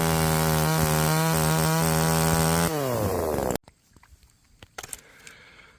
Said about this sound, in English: Now, that's a chainsaw.